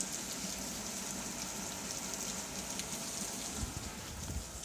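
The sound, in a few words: rain falling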